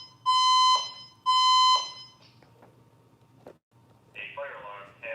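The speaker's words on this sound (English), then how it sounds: "A fire alarm has been activated." A building fire alarm sounds two loud, sustained electronic tones in quick succession, each with a bright ringing quality, followed by quieter clicks and a brief burst of a voice-like announcement.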